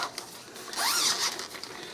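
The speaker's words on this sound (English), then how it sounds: "And it zips and unzips." A zipper on a pie crust bag, a zippered pastry-rolling bag for 11 to 12 inch pie crusts, zips in one quick close pull, a bright rasping burst lasting about half a second amid quiet room sound.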